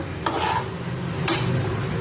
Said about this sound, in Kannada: ಕರಿಬೇವಿನ ಸೊಪ್ಪು ಮತ್ತು ಬೆಳ್ಳುಳ್ಳಿ ಇದಿಷ್ಟು ಹಾಕ್ಕೊಂಡು ಚೆನ್ನಾಗಿ ಫ್ರೈ ಮಾಡ್ಕೊಬೇಕು.